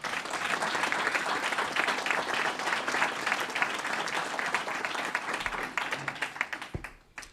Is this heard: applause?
yes